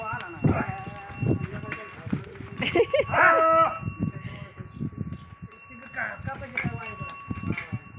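Cattle on an Indian farm give a drawn-out moo midway, set among ongoing conversation, laughter and general farmyard activity nearby.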